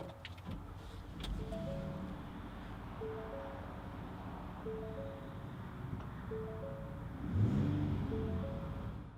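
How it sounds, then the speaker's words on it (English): A 2016 Ford F-150 XL Regular Cab pickup is started with a key. A low engine rumble comes in and holds steady under repeating electronic chime tones, then swells briefly near the end. "So starting the truck is about as traditional as it gets."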